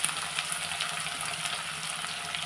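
Onion and dry red chillies frying in hot oil for potato palya, a steady bright sizzle with fine crackling, close and continuous, with no talking.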